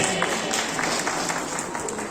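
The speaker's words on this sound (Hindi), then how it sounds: "जोरदार ताली इन लोगों के लिए।" An audience applauds with steady, dense clapping throughout a short burst, fairly loud and even.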